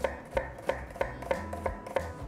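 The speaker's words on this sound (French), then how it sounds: "Alors, nous allons ciseler l'échalote." Knife blade finely chopping a shallot on a board, seven or eight crisp, evenly spaced taps about a third of a second apart, close and clear with no talking.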